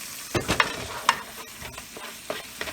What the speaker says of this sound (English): Now we're browning the beef with it.